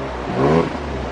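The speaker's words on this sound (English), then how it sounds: "It sounds like a racing exhaust because it's not got as much baffles in as the other one." A car fitted with a cheap, lightly baffled racing-style exhaust gives one short, loud rev that swells and drops back within about a second, with a raspy, motorbike-like tone.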